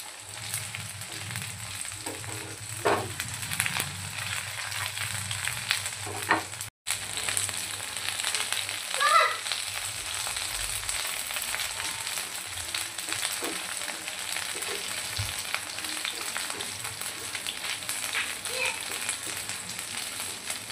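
Soya chunks deep frying in oil until golden for soya chilli Manchurian, a long even bubbling sizzle at moderate level with occasional faint stirring ticks and a brief break partway through.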